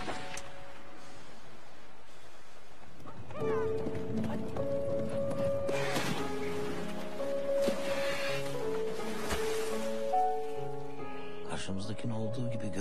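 Horse hooves clip-clop and a horse neighs in a scene from the Turkish film Winter Sleep (Kış Uykusu), with steady music-like tones and other scene sounds layered over the hoofbeats throughout.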